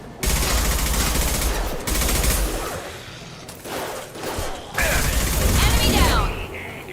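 Bursts of automatic gunfire from the shooter video game Mass Effect 2, loud and dense in several long volleys with brief gaps, mixed with game effects and occasional voices.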